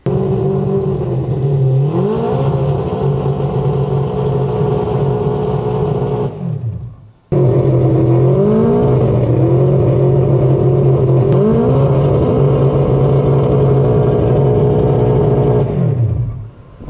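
Turbocharged four-rotor rotary engine in an all-wheel-drive car runs loud and close, revving and falling in repeated pulls, cutting out briefly midway before firing back up and revving again.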